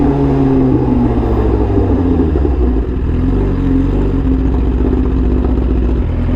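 A tuned Suzuki GSX-R1000 motorcycle drops down through the gears to first, its loud engine note stepping through blips and pitch changes, heard close from the rider's position with steady road and wind noise.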